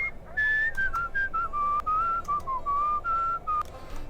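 A person whistles a wavering, breathy tune in several short phrases with brief gaps, close and fairly loud, with no talk over it, while playing the game Where the Water Tastes Like Wine.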